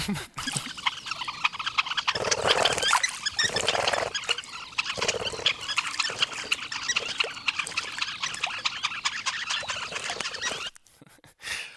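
A couple of female birds harass a male in Ireland, producing a busy, continuous clamour of harsh chattering and squeaky calls close to the recorder, with scratchy, rustling texture throughout before it cuts off near the end.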